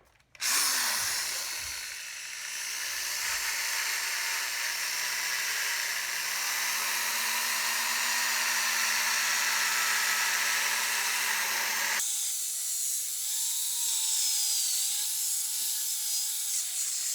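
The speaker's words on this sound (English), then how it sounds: "start applying it on there using the drill, and then go ahead and do the sanding down on the surface" A power drill wet-sanding a car headlight lens runs steadily for a long stretch with a high, buzzing whine and a gritty rubbing edge, close and loud, changing pitch partway through.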